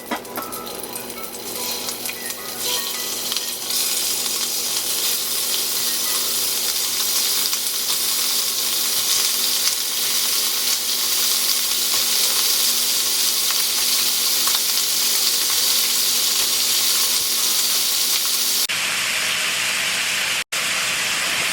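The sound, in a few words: filet mignon steak searing in butter in a pan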